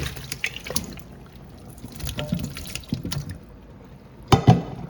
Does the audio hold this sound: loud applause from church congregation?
no